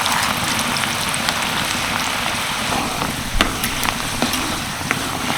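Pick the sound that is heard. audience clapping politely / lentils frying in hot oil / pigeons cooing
lentils frying in hot oil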